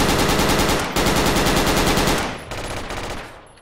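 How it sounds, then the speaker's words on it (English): Heavy machine gun fire in the military shooter Project Reality: loud, close, rapid sustained bursts with a brief pause between them, then a slightly quieter continuing burst, with no voices over it. "Heavy machine gun."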